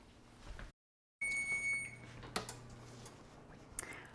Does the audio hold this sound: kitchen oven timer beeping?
yes